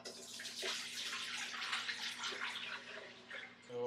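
Strained clam broth poured from a container back into a cooking pot, a steady liquid splash and gurgle running for several seconds at close range with no talking.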